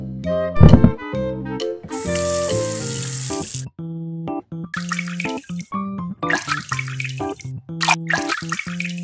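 Tap water runs into a sink in bursts while food is washed, broken by gaps, with a plucky instrumental tune playing throughout.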